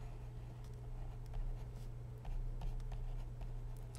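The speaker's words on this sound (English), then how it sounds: "I'm going to write this down." Pen writing by hand on paper, soft continuous scratching strokes in short bursts over a steady low hum, close and fairly quiet.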